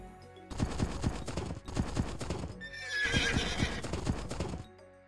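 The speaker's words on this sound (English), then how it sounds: "Thank you for returning my horses, Gunnar." Horses in the video game Age of Empires 2: a rapid clip-clop of hooves repeating in bursts, with a loud whinny rising over them midway, no talking.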